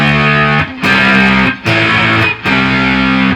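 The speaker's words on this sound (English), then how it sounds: "It's that thin sort of 60s distortion" Electric guitar with thin 1960s-style distortion, played loud and close for a Jimi Hendrix "Fire" lesson, strumming a few chord hits in a steady rhythm with short breaks between them.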